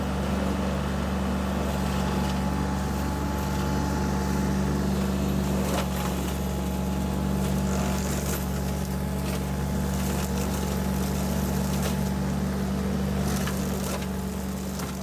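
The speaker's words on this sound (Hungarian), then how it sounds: "ez egy Yanmar 3 hengeres motor" A Yanmar three-cylinder diesel engine drives a Ferri iCUT3 brush cutter, a steady, loud droning hum with a constant low tone that holds without a break from start to finish, and no talk over it.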